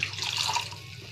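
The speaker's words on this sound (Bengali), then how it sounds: "এবার জল দিয়ে দেব।" Water poured into a pan of dry-fried masoor lentils with salt and spices, a steady close rush of liquid with a faint sizzle underneath, brief and continuous.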